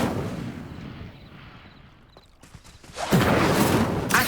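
Incendio fire spell cast in the game Hogwarts Legacy, a sharp cracking burst that opens into a loud roaring whoosh of flame after a quieter lull.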